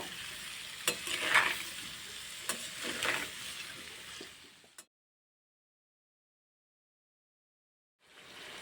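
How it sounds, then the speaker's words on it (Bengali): A spoon scrapes and stirs amla (Indian gooseberry) pickle in a sizzling pan for several seconds with occasional clinks, followed by silence and a brief return of sizzling. "এবার কিছুক্ষণ নাড়িয়ে চাড়িয়ে নেব"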